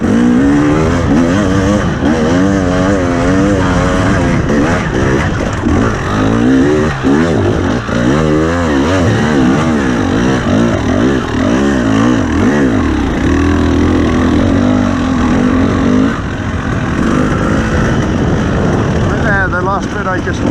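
A 2021 KTM 300 TPI two-stroke dirt bike engine lugging and revving loudly up close while riding, with pitch wavering up and down throughout as someone talks over it.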